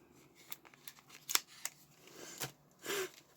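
Scissors snip through the packaging of a Crayon Eyeliner Trio cosmetic, a handful of faint, crisp cuts and rustles spaced irregularly, close by and quiet, with no talking.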